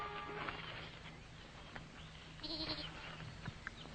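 A goat bleats a couple of times over a steady outdoor background, with one louder, wavering call in the middle and fainter ones around it.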